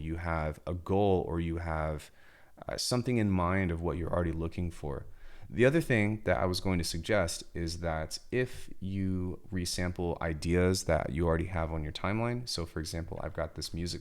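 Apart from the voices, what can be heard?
None of the usual background noises is heard.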